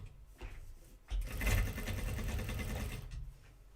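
A home sewing machine stitches the legs of a pair of jeans, its motor running in a steady, continuous whir that starts up partway through and holds close and loud before easing off near the end.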